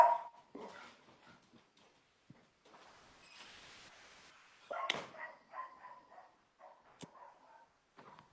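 A pet dog indoors makes scattered short yips and whimpers, faint to moderate and close by, separated by quiet gaps, with a louder bark-like burst partway through; no talk over it.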